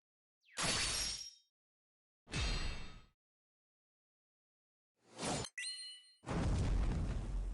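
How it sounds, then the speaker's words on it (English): Several separate bright chime-like bursts from a Granblue Fantasy game during Fullmetal Alchemist collab ore farming, each loud and ringing briefly before silence, the last two close together and followed by a longer sustained wash of sound. "You heard a bell ring."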